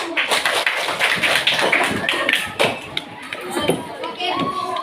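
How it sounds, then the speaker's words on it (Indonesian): Children applauding together in a classroom, a dense burst of clapping that rises and tapers, with a few young voices calling out over it. "tepuk tangan untuk kita semua"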